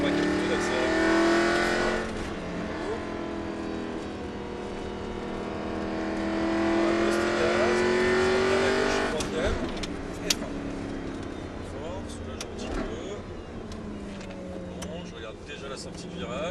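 A car accelerating out of a turn on a driving-lesson course, its engine droning and rising in pitch over a long sustained pull, with an instructor talking over the engine throughout.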